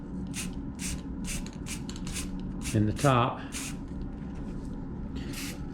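Short hissing bursts from a rattle can spraying clear gloss lacquer onto an apple wood vase, several quick sprays in a row, close and fairly loud, with someone speaking briefly in the middle.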